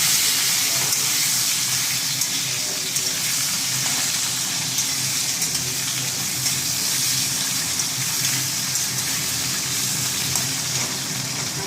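Vegetables, such as sliced potatoes, frying in hot mustard oil give off a loud, steady sizzling hiss that stays even throughout, heard up close with no one speaking.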